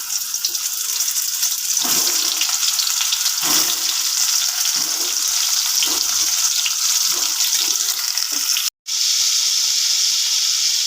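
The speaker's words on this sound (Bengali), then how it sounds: "তেল ভালো গরম হয়ে গেছে আগে পটলটা দিয়ে দিচ্ছি তেলে" Pointed gourd pieces hit hot mustard oil and fry with a loud, steady sizzle that runs almost unbroken for several seconds, with a brief cut near the end.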